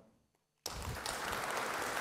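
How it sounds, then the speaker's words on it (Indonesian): An audience at an official event honouring PPATK bursts into applause after a short near-silence. The clapping starts abruptly and stays loud and dense until the end. "tepuk tangan"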